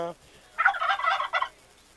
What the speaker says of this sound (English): that's a gobble